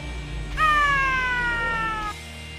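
One loud, clear cat yowl, drawn out for about a second and a half and sliding slightly down in pitch, rises above a low background hum as a stream sound alert.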